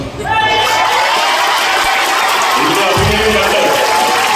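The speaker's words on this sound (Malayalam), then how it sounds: "എല്ലാവരും കൈയടിച്ചു, എല്ലാവരും ആസ്വദിച്ചു" Audience applause and cheering fill a college event hall at Trinity Lyceum in Kollam, a dense, steady wash of clapping from a large crowd with a surge partway through.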